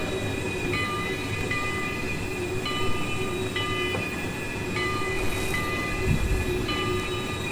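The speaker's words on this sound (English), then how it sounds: "The squealing from the cars can get a little bit old because it's a bit loud and it's just constant." Train cars in the Trainz 2019 game squeal while braking, giving steady high metallic tones that repeat over a constant rumbling rail bed, loud and continuous with no talk.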